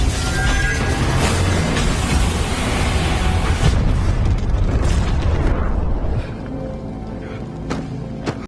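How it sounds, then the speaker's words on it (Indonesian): A film scene of an overheating Metal Gear war robot exploding: a loud, dense roaring blast sustains for about six seconds, then drops to a quieter crackling rumble before cutting off. "tubuh Metal Gear tampak semakin memerah sebelum akhirnya meledak akibat suhu panas"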